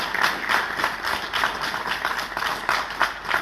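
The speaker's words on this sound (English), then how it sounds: "request we give another round of applause to Marshal Jula and General" Steady, dense applause from an audience at a military peace-agreement signing ceremony in Pretoria involving Ethiopian and Tigrayan commanders, continuous and fairly close with no speech over it.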